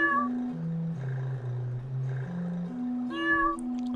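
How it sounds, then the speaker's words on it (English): A synthetic cat meows in a video game: a long, stepped, machine-like tonal call that slides down and back up, followed by a brighter, shorter meow near the end, clear and close with no talking. "It's a very kind of industrial sort of purr."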